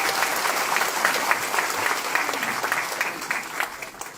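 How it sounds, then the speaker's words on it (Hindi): Enthusiastic audience applause at a Hindi-language motivational talk, steady dense clapping that fills the room throughout, loud and close. "क्या बात, एक बार जोरदार ताली,"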